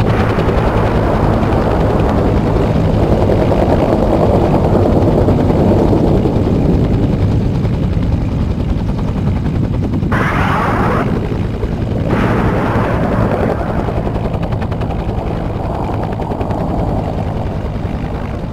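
Helicopter gunship making an attack run in a Vietnam War video game battle for Saigon's Presidential Palace: a loud, continuous rotor roar with dense firing and blasts throughout, briefly thinning mid-run before surging back.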